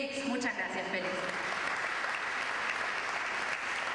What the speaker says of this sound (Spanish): damos la bienvenida y un fuerte aplauso al señor Félix.